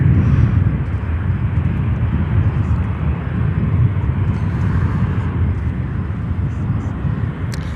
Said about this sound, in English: British Airways coming in from London Heathrow on a 777-200.